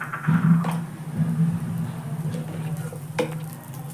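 Oil poured into a kuzhi paniyaram pan hisses with a close, steady sizzle, loudest at first and then settling into a softer crackle, with a faint clink of a utensil.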